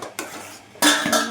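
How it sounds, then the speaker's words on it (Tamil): Urad dal kali stirred in a pot with a metal spoon: two short bursts of scraping, clinking utensil-on-pot contact, close and moderately loud, with no speech. "கட்டிப்படாமல் கிண்டணும்."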